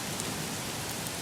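Freezing rain falls steadily outdoors in Great Lakes country, an even, close hiss of drops on surfaces with no voices.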